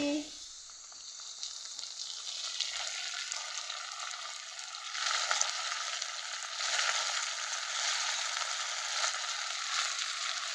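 Tomatoes hit hot oil in a frying pan where carrots were already cooking for breakfast, setting off a loud, steady sizzle that swells a little as they are stirred. No voices are heard over it.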